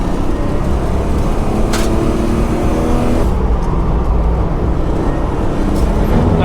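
BMW E36 325i accelerating hard on a Formula 1 racetrack, a loud, close engine note rising through the revs with rumbling road and wind noise, no talk over it.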